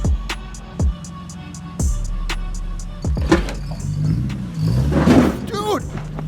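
A Nissan 370Z is driven up onto a trailer, its engine idling and revving in short bursts with clunks and knocks, while people talk nearby.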